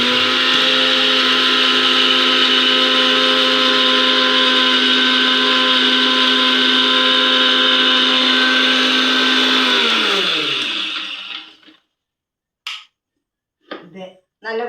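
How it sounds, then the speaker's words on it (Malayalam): A mixer grinder blends gooseberry juice with a loud, steady whirring roar for about ten seconds, then winds down and stops, followed by a few brief clicks and handling noises. "എന്നിട്ട് മിക്സി ഓണാക്കി"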